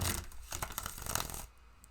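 Tarot cards being shuffled by hand, a rapid run of crisp riffling slaps and flutters up close for about a second and a half before going quiet.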